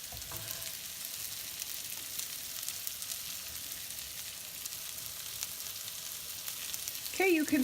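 Chicken sizzles steadily in a hot pan for a sweet salsa chicken salad, a soft, continuous frying hiss with a brief clatter near the end.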